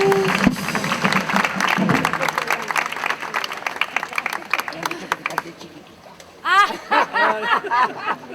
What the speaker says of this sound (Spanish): ¡Fuerte aplauso y a disfrutar!